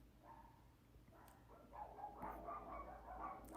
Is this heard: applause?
no